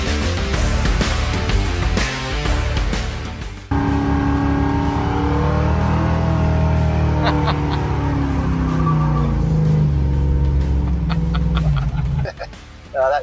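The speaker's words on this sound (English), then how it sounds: "they're one of the best sounding V8s I've ever heard. And they rev." Holden Torana SS V8 engine, a muscle car capable of over 6,000 RPM, roaring loudly and steadily with a sharp rev after a brief dip, then holding a sustained high drone before tailing off near the end.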